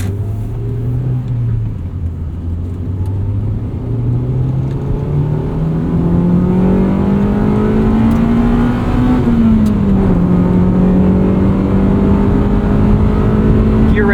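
Engine of a 1999 Honda Civic Si climbs steadily in pitch through a long rev toward about 6,000 RPM, the tone hardening as VTEC engages, with a brief shift and a continued loud pull heard from inside the car.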